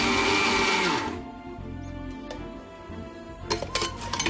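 A mixer grinder whirs loudly, grinding roasted coconut chutney for about a second, then winds down and stops, followed by faint clinks and rattles as the jar is handled.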